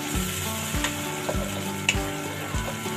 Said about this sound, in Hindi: तकरीबन 1 मिनट में ना इसको प्याज के साथ अदरक को फ्राई कर लूँगी।